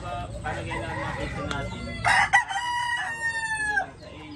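Chickens cluck nearby, then a rooster crows loudly with a long drawn-out call, over a low background murmur.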